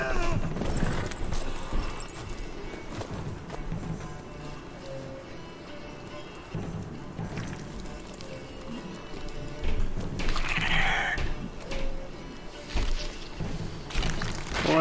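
Horse hooves clip-clop in The Witcher 3, a continuous loose patter of steps set against rustling game ambience, with the hoof sounds swelling louder near the end.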